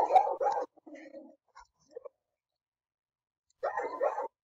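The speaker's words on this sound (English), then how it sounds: "You'll have to excuse my dog in the background." A dog barks in the background indoors: a few quick, moderately loud yelps and barks, then a pause of about two seconds, then another cluster of barks.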